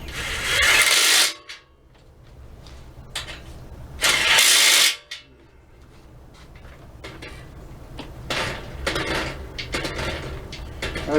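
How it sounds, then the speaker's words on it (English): Metal bolts rub and scrape against the brake pad of a gold Debo motorized bike, two loud bursts of grinding friction near the mic at the start, then quieter intermittent scraping and rattling. "what you're listening to is these bolts here rubbing up against the brake pad"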